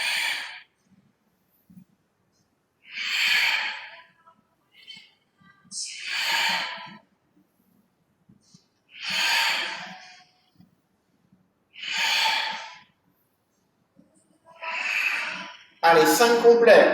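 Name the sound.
exhaling and inhaling during Pilates exercise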